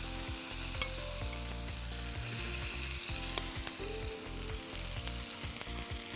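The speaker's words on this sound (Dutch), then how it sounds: "Zorg dat de grillpan goed heet is. Leg alle drumsticks erin." Chicken drumsticks sizzle steadily in a hot grill pan, with occasional soft pops and clinks of turning.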